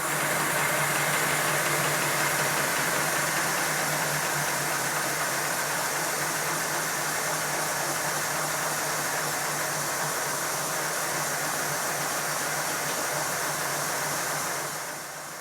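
A Simplex steam locomotive engine runs on compressed air, giving a steady, continuous rushing and chuffing mechanical drone that holds at an even level for the whole clip with no talk.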